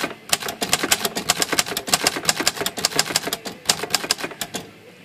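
Rapid typing on a Hermes 2000 typewriter, a dense run of crisp, close key strikes in uneven bursts that slow and stop near the end.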